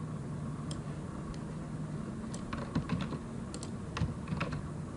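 Keys tapping on a computer keyboard while code is written, a quiet, irregular patter of clicks over a steady low room hum, no voice.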